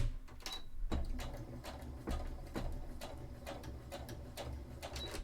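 A sewing machine stitches a gusseted cosplay glove in short, quiet bursts of rhythmic mechanical clicking and whirring close by, with brief pauses between runs.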